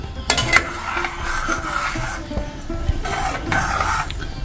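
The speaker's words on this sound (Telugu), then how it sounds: "చిన్నగానే కలపాలండి, గట్టిగా కలపొద్దు" A spoon gently stirs undrallu payasam, a thickening rice-dumpling sweet, in a metal pot, with soft scraping and clinks over a faint simmer, close and continuous.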